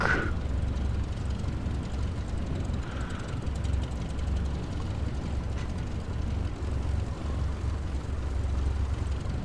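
An airliner taxis at Key West International in Microsoft Flight Simulator, its engines giving a low, steady rumble and hum at moderate volume with no talking over it.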